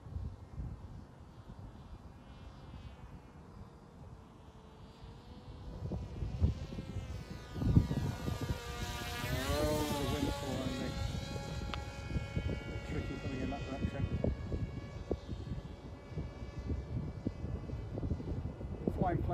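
Propeller of a Dart XL FPV flying wing in flight, a thin buzzing drone that starts faint, then swells louder and shifts pitch as the plane passes and climbs, continuing steadily to the end.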